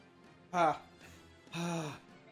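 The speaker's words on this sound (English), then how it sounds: "He does a lot of panting." Game character Ike in Path of Radiance panting heavily, two strained, breathy gasping bursts about a second apart, loud and close with quiet between them.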